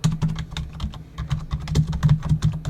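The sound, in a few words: typing a value on a computer keyboard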